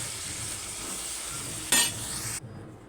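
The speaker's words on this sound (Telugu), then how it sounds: "మన పన్నీరు బీరకాయ మొత్తం కలిసేటట్టు మంచిగా కలుపుకోవాలి." Paneer and ridge gourd being stirred in a frying pan, a soft steady sizzle with a brief scrape of the spoon near the end, close and quiet with no talking.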